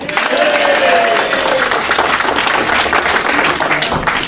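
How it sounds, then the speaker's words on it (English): Crowd applause at a convention closing ceremony, a dense continuous patter of clapping with a whistle early on and background voices, loud and steady to the end. "Round of applause."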